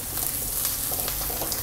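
Prawn masala with coriander powder stirred in a pan, giving a steady soft sizzle with faint scraping of the spoon, close and continuous over a short moment.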